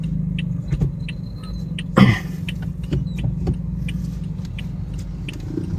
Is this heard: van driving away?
yes